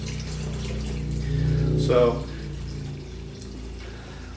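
Grape juice pours from a jug into a container with a steady liquid gush that swells and gurgles midway, heard close under a brief spoken word.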